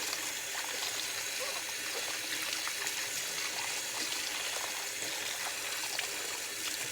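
Tap water running steadily while an engine part from a Yanmar 1500 diesel tractor restoration is rinsed of soap, a continuous close trickling and splashing stream with no talk.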